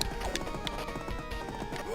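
Horse hooves clip-clop steadily in a retro video game, a rhythmic series of hoof strikes at moderate loudness with game sounds layered underneath.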